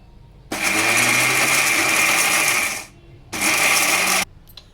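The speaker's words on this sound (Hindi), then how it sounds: "अब मसाले को हम ग्राइंड कर लेते हैं।" An electric mixer grinder whirs loudly through whole spices for garam masala in two bursts, the first about two seconds long, then a short pause, then a second shorter run, with a rattling, buzzing motor tone.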